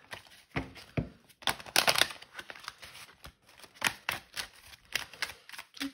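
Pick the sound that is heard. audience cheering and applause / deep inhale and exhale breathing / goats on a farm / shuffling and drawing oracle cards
shuffling and drawing oracle cards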